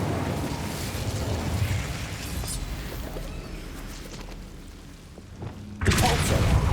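The Incendio fire spell in Hogwarts Legacy erupts as a loud rumbling burst of flame, sustained and close, fading briefly before a second sharp blast flares up at the end.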